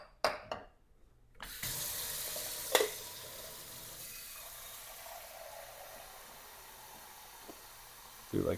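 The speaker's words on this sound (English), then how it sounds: "I'm gonna add some water." Tap water runs into a Mr. Coffee 5-cup mini coffee maker carafe, a steady rushing stream after a few clicks and clatters, gently fading over several seconds before a final clunk.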